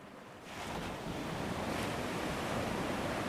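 Ocean waves and surf roar steadily with heavy wind noise buffeting the microphone, a dense, continuous wash of sound swelling in after a quieter first half-second.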